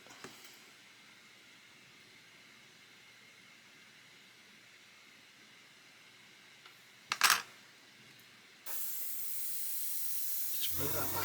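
An airbrush blows air over masking tape on a 1/32 F-35A model: a short sharp puff midway, then a steady close hiss of air running to the end, over faint room noise.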